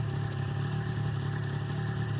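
An XC600 snowmobile engine idles in a steady, even low hum, close and moderately loud, with no talking over it.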